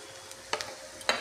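Masala with red chilli powder roasting in a pan for mutton curry, faint sizzling under a few quick scraping stirs of a spoon across the pan.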